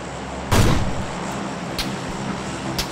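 A single loud, close gunshot bursts out in PUBG on the Miramar desert map, followed by a couple of fainter distant shots with a lingering low rumble, no talking over it.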